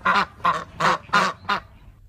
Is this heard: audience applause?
no